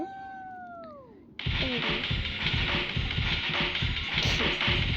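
A cat meows twice, clear and close, with falling tones, then loud talk and noise take over the rest of the clip.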